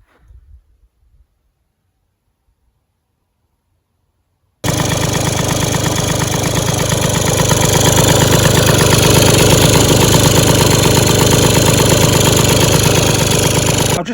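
A Peugeot Speedfight 2 scooter engine starts after a few quiet seconds and runs loudly and steadily, close by, with a buzzing two-stroke idle that rises slightly and holds.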